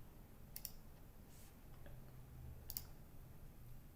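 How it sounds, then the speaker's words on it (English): Two sharp, quiet mouse clicks on a Create button in project management software, spaced about two seconds apart against a faint room hum. "To make a new baseline, we click the Create button."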